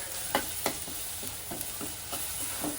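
Onions and green chili paste frying together in a pan for a pumpkin fry, a steady close sizzle broken by regular scraping stir strokes roughly every third of a second, with no voices.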